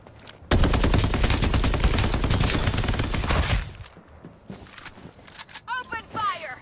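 Rapid automatic gunfire in the shooter game Farlight 84, a dense loud burst lasting about three seconds, then scattered clicks and game voice lines.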